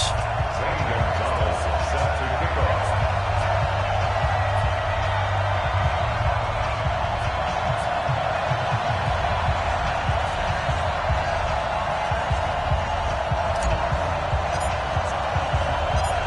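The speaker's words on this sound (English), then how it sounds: "This crowd is ready as their guys get set to match up between the Cleveland Browns and the Tennessee Titans." Steady broadband roar of a stadium crowd before a Cleveland Browns versus Tennessee Titans matchup in a PS4 football video game, continuous and fairly loud throughout with a low hum at the start.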